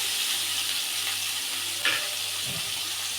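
Chopped green capsicum frying in oil in a pan, giving a steady, even sizzle with a faint clink near the end and no talk.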